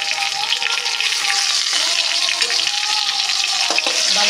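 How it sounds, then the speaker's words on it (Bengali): Fish fries in a pan at home while rajma dal is being made, a loud, close, continuous crackling sizzle with a few stirring scrapes and no talk. "ভালো করে ভাজা করে নিলাম।"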